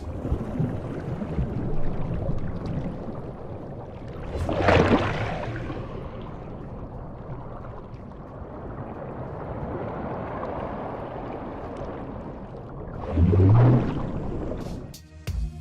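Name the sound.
ocean water sounds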